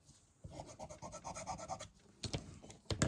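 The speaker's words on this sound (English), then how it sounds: "But I'm going to get rid of them simply by scraping away." A scraper rubs across a sublimation transfer on 100% cotton fabric to remove roller marks, giving quiet, close scratchy strokes that come in short irregular bursts.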